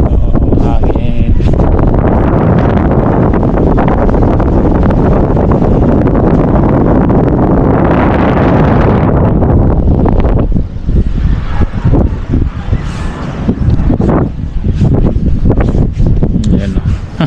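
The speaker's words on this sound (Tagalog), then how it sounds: "Hangin." Strong outdoor wind batters the microphone with loud, roaring low-pitched gusts that sustain for long stretches and then ease slightly, while people talk intermittently over it.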